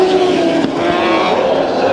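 Race cars roar past at Bakersfield Speedway during a heat race, with a loud, sustained engine drone and a brief surge in the middle, heard under a commentator's voice.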